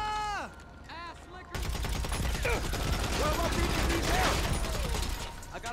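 Sustained rapid gunfire in GTA Online on the Cluckin' Bell Farm Raid mission, loud and continuous, following a short moment of speech and mixed with mechanical clatter.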